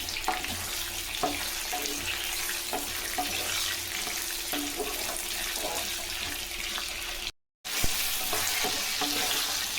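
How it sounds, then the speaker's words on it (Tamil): Eggplant frying in hot oil for thokku keeps up a steady, loud sizzle with faint stirring taps, broken by one brief dropout. "எண்ணெயிலேயே முக்கால் வேக்காடு இந்த கத்திரிக்காய் வெந்துடணும்"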